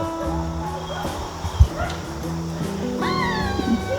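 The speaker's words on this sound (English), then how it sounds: "I need to go save my green beans from my miniature dachshund here" A miniature dachshund in a permaculture garden lets out a few short yips and whimpers against a steady outdoor background, with one sharp louder bark near the middle.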